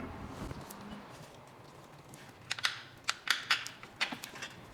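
Ratchet or wrench clicks loosening a 13 mm ground nut in the engine bay of a 2006 BMW E90 330xi, a short run of sharp, close metallic ticks in the second half over a quiet background hiss.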